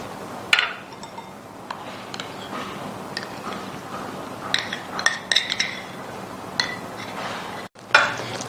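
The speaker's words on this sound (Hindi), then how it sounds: "तो ये चीज़ें मैं मिक्स कर रही हूँ।" Ingredients for a nutty chicken sandwich are mixed in a bowl with a spoon, giving soft scraping under scattered sharp clinks of metal on the bowl, close and irregular, with no talk.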